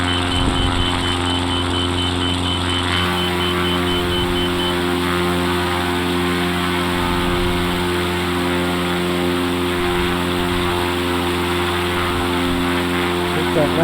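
An X Cub light aircraft's engine at full takeoff power, a loud, steady propeller drone with strong harmonic tones that stays constant throughout, heard from inside the cabin, with a voice talking over it.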